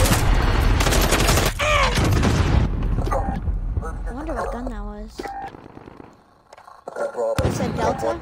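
Dense gunfire bursts and booming explosions in Call of Duty Modern Warfare multiplayer, loud and continuous through most of the stretch, briefly easing near the end before firing resumes, with voice chat talking over parts.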